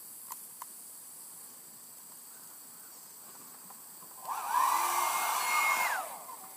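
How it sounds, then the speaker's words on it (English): A hair dryer switched on at its highest setting: after a quiet stretch with a couple of faint clicks, a loud, steady blowing roar starts close by and runs about two seconds before cutting off. "you will take a hair dryer"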